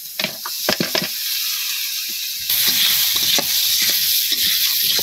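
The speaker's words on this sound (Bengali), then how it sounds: "মশলাটা কষাই আলছি" Masala spice paste fries in a pan while being stirred, a loud steady sizzle broken by repeated scraping clacks of the ladle against the metal, growing fuller midway through.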